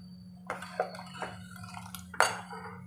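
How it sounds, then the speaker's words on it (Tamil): Water splashes and sloshes into a mixer-grinder jar in a few short pours to rinse it, with light clinks of the container over a steady low electrical hum. "கொஞ்சம் ஜலம் விடலாம் அந்த மிக்சியே அலம்பி விடுறது"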